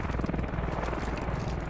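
A helicopter in the military shooter game Squad gives a steady, throbbing rotor drone that fills the whole short stretch, with faint game noise around it.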